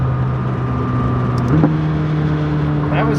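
A McLaren 600LT sports car accelerates at full throttle, its engine droning with a strong, rising tone that steps up midway, heard from inside the car while people talk over it.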